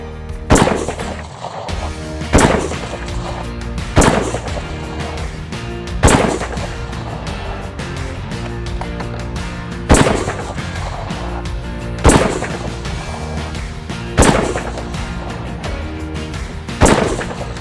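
Loud, sharp reports from a Remington 783 hunting rifle firing hand-loaded rounds outdoors, evenly spaced roughly every two seconds, each crack followed by a brief decay over a steady background.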